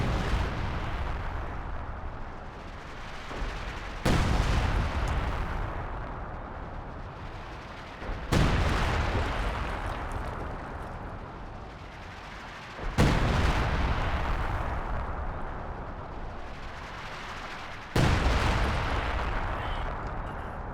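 Sexton self-propelled artillery in a video game firing a barrage: five heavy, booming shots spaced roughly four to five seconds apart, each a sharp blast trailing into a long rumbling decay, loud and close with no talk.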